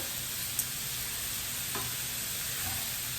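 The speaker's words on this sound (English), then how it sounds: "let's give this a stir" Spicy sausage and shrimp mixture with jalapeno and Cajun seasoning being stirred in a pot, a steady low sizzle with a few faint scraping strokes of the spoon, close and quiet, no talking.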